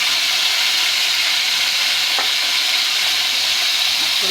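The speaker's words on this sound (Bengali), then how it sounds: "মাছগুলো আমি একটু উল্টিয়ে দিলাম।" Fish fry in a blackened wok with a loud, continuous hiss and crackle of hot oil, with one brief clink near the middle and no voices.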